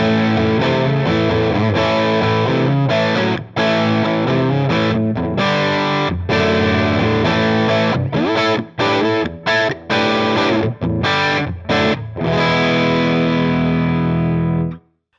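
An electric guitar plays through a Headrush MX5 distortion amp model with the gain and treble pushed for an aggressive tone. The chords ring loud and thick, then cut off abruptly in choppy stops before fading out.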